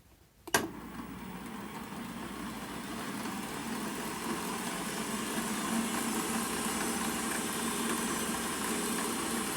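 A milling machine spins up toward 1800 RPM after a sharp click, settling into a steady, even motor whir and hum that holds for several seconds with no talk.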